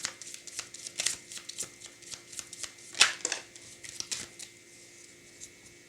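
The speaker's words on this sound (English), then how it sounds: "What can we learn from working with this deck?" A tarot card deck being shuffled indoors, a run of quick papery riffles and taps, close and fairly quiet, with one sharper flutter midway.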